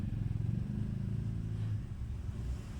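Hyundai Grand i10 diesel engine idling with a misfire fault, a steady low rumbling drone heard close up with slight uneven pulsing and no talk.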